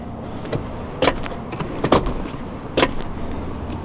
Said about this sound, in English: Power rear liftgate.